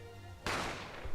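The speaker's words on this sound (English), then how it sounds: "the sound of the gunshot" A single sharp gunshot from the video game The Great Ace Attorney Chronicles bursts out loudly after a quiet moment and then decays quickly.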